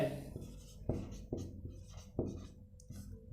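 Chalk or marker scraping across a board during a maths lesson, in a series of short scratchy strokes with brief pauses between them, fairly close and with no talking.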